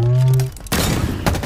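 Halo Infinite multiplayer gunfire in an Oddball match: a rapid, loud burst of sharp shots with crackling impacts follows a brief tonal game sound.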